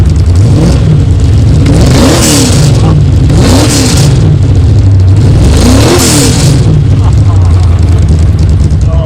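A TCR touring race car at Donington Park fires up and revs hard, its loud engine rising and falling in three sharp bursts over a steady idle, with voices in the background.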